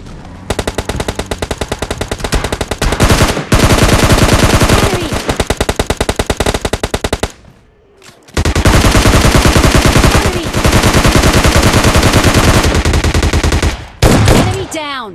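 Automatic gunfire in PUBG Mobile Lite rattles in long, rapid bursts, loud and close, with a brief pause in the middle and a short gap near the end before firing resumes.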